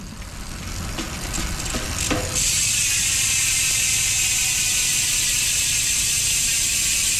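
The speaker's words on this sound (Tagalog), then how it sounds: "yan yung tunog ng speed 1 torpedo, MTB hubs kapag naka-free wheel." A Speed 1 Torpedo MTB rear hub with sealed bearings spins freely, giving a loud, steady close-up freewheel whir that settles into a constant buzzing tick after a brief build-up.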